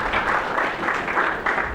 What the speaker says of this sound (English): Give the brother a round of applause, please.